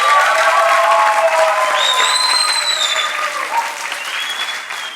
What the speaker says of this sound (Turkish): Ali Han diyenler lütfen alkışlasın.